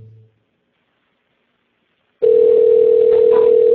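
A steady phone dial tone begins after a short silence once a dialer starts calling, loud and continuous to the end.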